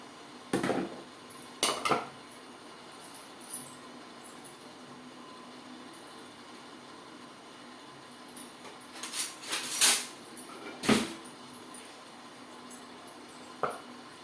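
Steel dishes and vessels clinking and knocking as idli is moved into a hot box in a home kitchen, a few scattered clatters and taps at moderate distance amid quiet room tone.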